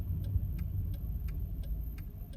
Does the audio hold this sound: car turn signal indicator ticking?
yes